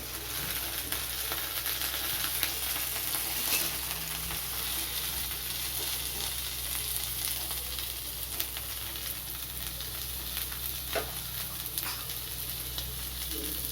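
Onion fried with dried red chilli and black cumin sizzles steadily in a pan as tomato is added, a continuous close frying crackle with occasional stirring scrapes and no speech.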